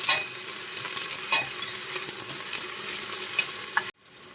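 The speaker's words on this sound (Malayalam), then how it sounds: "സവാള ഏകദേശം പകുതി കൂടുതൽ നന്നായിട്ട് വഴണ്ട് വന്നിട്ടുണ്ട്" Sliced onions sizzle steadily in a pressure cooker for fried chicken dum biryani, with a ladle stirring and scraping through them in a continuous close, busy frying sound that cuts off near the end.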